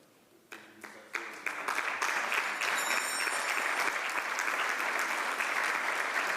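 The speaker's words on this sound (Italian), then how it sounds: "Ve lo meritate un applauso" An audience in a hall bursts into applause, starting with a few scattered claps that quickly swell into loud, sustained clapping from the whole room.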